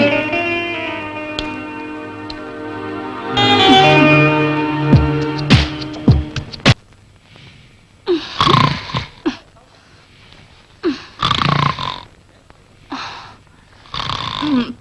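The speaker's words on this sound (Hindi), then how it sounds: "पता नहीं क्यों इतनी जोर से खर्राटे भरते हैं।" A man snoring loudly in a dubbed Hindi film scene, with a sustained droning, harmonic-rich snore in the opening seconds followed by repeated loud breathy bursts and shorter snorts, close up with no talk over it.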